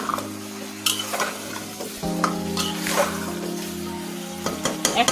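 Beef curry cooks with mustard oil in a pan, a close, even sizzle accompanied by repeated scrapes and stirs of a spoon, with a low steady hum underneath and no talking.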